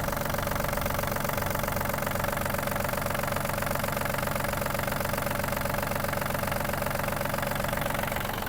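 A Yanmar RS-24 Japanese diesel mini tractor runs at a steady idle, with a close, loud, constant knocking drone and vibration that never lets up, and no voices over it.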